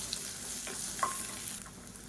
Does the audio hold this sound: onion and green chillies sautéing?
yes